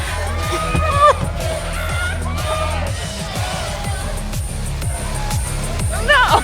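Crowd cheering and whooping inside the video game Life is Strange: Double Exposure, heard at a rowdy concert with music, with steady shouts and yells under people talking.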